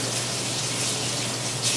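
A bathroom sink tap runs steadily, a close, loud, continuous gush of water being warmed to a comfortable temperature, with no talk over it.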